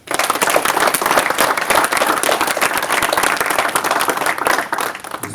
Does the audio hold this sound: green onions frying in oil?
no